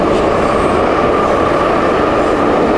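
A metro train at a busy underground station in Leningrad, with a continuous loud roar and rumble of the rolling cars filling the whole stretch, steady and close, with no voices standing out.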